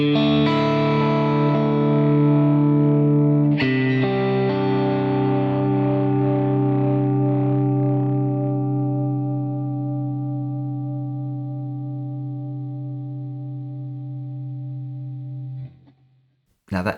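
A sustained electric guitar chord through a J Rockett Airchild Six Sixty compressor pedal, bright and effected, rings out after a second strum and slowly fades over many seconds as it squashes down, before cutting off.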